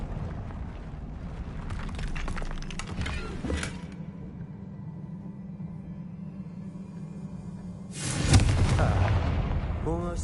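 Confringo blasting spells in Hogwarts Legacy, giving booming explosive bursts over a steady low rumble, with one blast early on and a louder, broader blast near the end.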